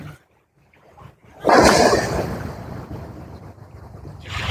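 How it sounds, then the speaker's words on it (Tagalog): Sea waves surge and crash against a breakwater: after a quiet start, a loud broadband rush swells up and keeps roaring and hissing, with wind noise buffeting the microphone. "Kita nyo, pag humahampas ang alon"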